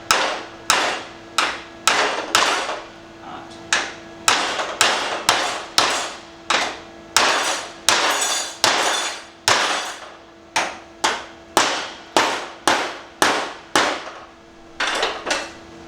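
Hammer tapping on tack-welded metal pieces in a garage, shaping them before final welding: a long series of sharp, close, ringing metallic blows in uneven bursts, loud and alone with no talk.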